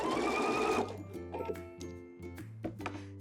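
A sewing machine stitches a zipper into fabric, running in a steady fast whir for under a second, then stopping and restarting in short uneven bursts with small clicks as the work is repositioned.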